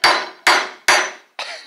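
Four sharp hammer strikes drive a nail into scrap wood, each blow ringing and decaying before the next, using a glass lens as the hammer; the last hit is duller and quieter.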